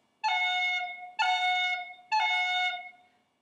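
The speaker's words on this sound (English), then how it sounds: "So this is how you do an F cut" Three sustained wind-instrument tones on F, each opened with a quick snapped G grace note cut, repeated evenly with short breaths between them and no talking.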